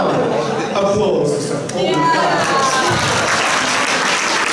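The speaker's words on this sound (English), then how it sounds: "And now, applause." Audience applause at an education conference keynote, a short burst of clapping mixed with crowd chatter and voices, fairly close and steady.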